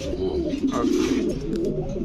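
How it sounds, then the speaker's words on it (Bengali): A golden swift pigeon coos steadily in a low, continuous rolling murmur, close and fairly loud, with faint chirps from other birds in a pigeon market in the background and no speech. "খুবই রেয়ার ইউনিক একটা কবুতর"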